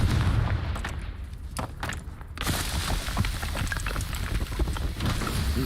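Repeated Confringo fire spell blasts in Hogwarts Legacy hit as heavy booming bursts, with a short lull before a long stretch of rumbling, crackling fire and impacts that continues to the end.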